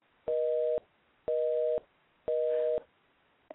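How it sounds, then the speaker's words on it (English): Three evenly spaced tones of a telephone busy signal, each about half a second long with equal gaps, clear and steady on the line with no talk over them. "Oh, it's busy now."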